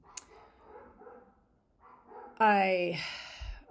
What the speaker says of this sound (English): So I hope that my dogs aren't too distracting.